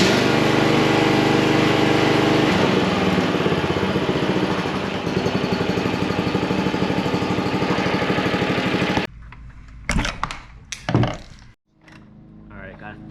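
A John Deere JX75 lawnmower engine idles low and steady with a loud, throbbing chug for about nine seconds, then cuts out, leaving a few sharp knocks and handling sounds.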